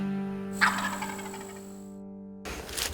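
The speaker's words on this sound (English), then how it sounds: "I just heard it sound like two birds gobble" A wild turkey gobbles once, a rapid rattling call from a distance of about 75 yards, then a second gobble breaks in near the end over a steady low hum.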